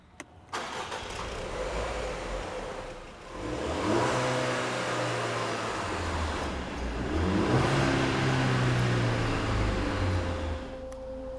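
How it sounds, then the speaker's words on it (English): A 2023 Range Rover Velar P250 SUV engine starts and revs, then drives with rising and falling engine tones as it accelerates, steady and close, with no talking. "Anyway, it's time we do some driving."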